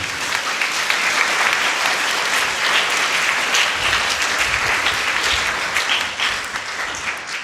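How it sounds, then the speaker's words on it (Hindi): A Catholic congregation at a Maundy Thursday gathering claps continuously and loudly, a thick, even roar of many hands that tapers slightly near the end. "ताली बजाइए, प्रभु को धन्यवाद दीजिए"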